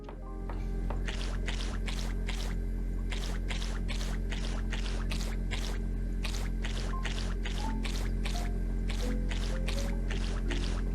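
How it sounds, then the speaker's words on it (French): In the video game Cleaning Simulator, a sponge is rinsed with water, giving a close, continuous wet swishing and squishing with regular rhythmic splashes, about one per second, and no talking. "Il faut rincer l'éponge."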